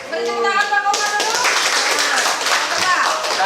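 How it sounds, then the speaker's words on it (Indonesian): A group claps for Pak Komar during a practical training session, the dense patter of hands starting about a second in and continuing steadily, after a spoken voice opens the moment and with voices mixed in. "Beri tepuk tangan Pak Komar dulu"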